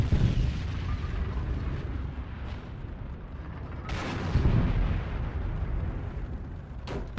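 Tank shell blasts and heavy gunfire in the World War II shooter Heroes and Generals, rumbling booms and sharp cracks throughout, with a couple of louder impacts standing out over constant battle noise.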